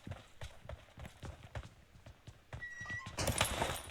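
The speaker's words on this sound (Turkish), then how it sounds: "Ayak ses var." Footsteps in PUBG Mobile, a run of regular soft thuds at a steady walking pace, moderately close, building toward a louder burst of game noise at the end.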